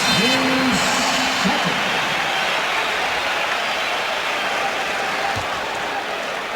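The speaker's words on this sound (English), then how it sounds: "And some sarcasm in the applause." Sustained arena crowd applause at a 1989 Pistons vs. Bulls NBA playoff game, a dense, even roar of clapping that holds steady from start to finish, with a brief voice near the start.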